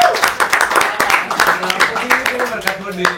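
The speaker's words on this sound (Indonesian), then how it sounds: "Boleh tepuk tangan buat kedua tim" A studio audience at the Papinter-pinter quiz show applauds both teams with a brisk run of close, crisp hand claps, while voices chatter and call out over the clapping.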